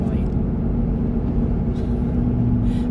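Steady road rumble and engine drone from inside a vehicle on a quiet North Carolina country road, with oncoming cars and trucks passing; continuous and fairly loud, no clear separate pass-bys standing out.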